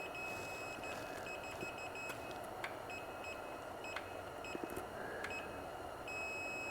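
A multimeter in diode mode beeps several times as the probes touch ground on a Kawasaki ZX10R motorcycle chassis, giving short intermittent electronic tones over a steady background hum with no speech.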